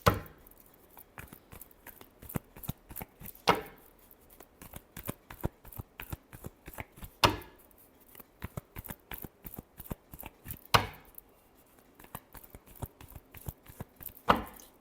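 Tarot cards are shuffled close up in repeated riffling bursts, quick rapid flicks with a sharper slap about every three to four seconds, quiet and with no voice.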